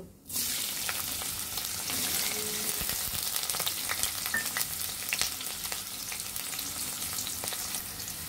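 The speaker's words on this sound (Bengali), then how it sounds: "এখন আমরা পেঁয়াজ কুচিগুলো দিয়ে দিব" Chopped onions sizzle steadily in hot oil with fried cumin seeds, a constant crackling fry that starts abruptly and continues with occasional stirring clicks, while cooking crab curry.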